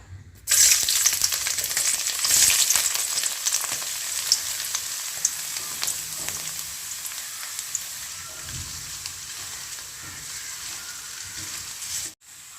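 Chopped ginger sizzles loudly in hot coconut oil for a Kerala ginger-tamarind dish, a dense, steady hiss with occasional crackles that cuts off abruptly at the end.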